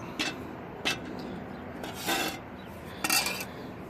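Rasping cuts through a sheet of plexiglass for a Cobb intake top on a 2016 WRX, heard as a few short, gritty bursts spaced apart against a steady low background hiss.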